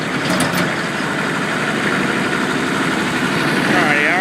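A Kubota M4050 two-wheel-drive tractor engine runs in reverse high gear, a loud, close, steady diesel drone with constant rumble throughout.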